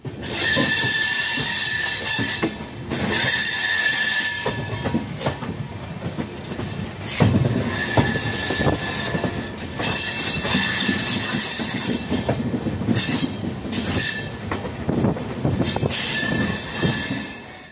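An Amrit Bharat Express train rumbles steadily along the rails from inside a carriage, with rhythmic clacking and occasional wheel squeals throughout.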